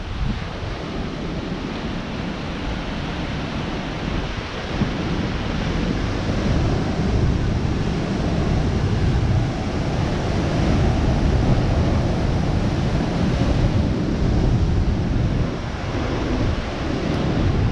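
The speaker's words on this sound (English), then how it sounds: "Sitting in the chair and watching the waves." Indian Ocean surf at St. Pierre on La Réunion Island: steady, close breaking waves wash continuously, mixed with gusty wind buffeting the microphone.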